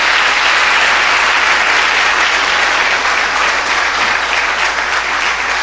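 A church congregation applauding loudly in worship, a thick sustained roar of many clapping hands that stays strong and even from start to finish.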